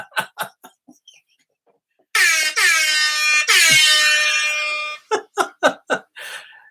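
Two long, loud blasts of an air horn, the second following right after the first, with short bursts of other sounds before and after.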